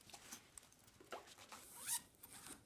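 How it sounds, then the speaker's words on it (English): A laptop bag case being unzipped, heard as faint, close scratchy zipper rasps in short bursts, with a sharper pull near the end, over a quiet room. "unzip the case fully so it opens up."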